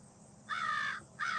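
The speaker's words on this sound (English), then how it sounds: "There's a bunch of crows out here." Crows on a farm in Ohio give two harsh caws in quick succession, fairly loud against a quiet outdoor background.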